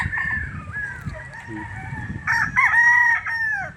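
Roosters crow at a gamefowl farm in Tagaytay City, with one nearby bird giving a long, loud crow and a second, louder overlapping crow following, over low background clucking and farm noise.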